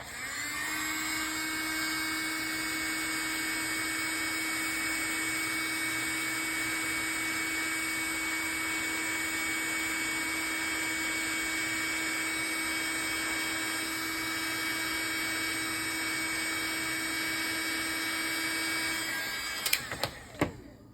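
A heat gun runs as a steady whooshing, whining blower while warming a vulcanite pipe stem on a Petersen 406 pipe to raise tooth marks; continuous and close, cutting off with a couple of clicks at the end.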